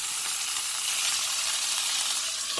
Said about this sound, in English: brown each side for about 2 minutes